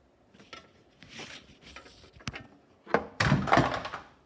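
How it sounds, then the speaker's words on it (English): A giant plastic cover on a Troy-Bilt Storm 2410 snowblower is knocked down during carburetor work, making a clattering plastic thunk and rattle after a few softer knocks, close and without talk. "Just knocked down that giant plastic cover"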